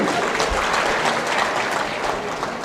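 A crowd at a political office inauguration in Maharashtra claps in continuous, dense applause throughout, with no break.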